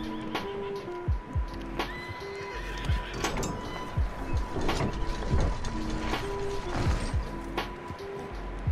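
Horses neigh and whinny repeatedly in Red Dead Redemption 2 over steady clip-clop hooves, with a low constant hum beneath, the calls rising sharply and falling at irregular intervals.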